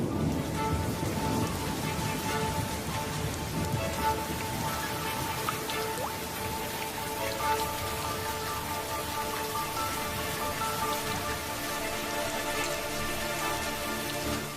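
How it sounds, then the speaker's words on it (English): Heavy monsoon rain pouring steadily over the Sri Lankan highlands, a dense continuous hiss of downpour with scattered drips, unbroken and evenly loud throughout with no voices. "But when the monsoon clouds finally burst, the highlands are inundated."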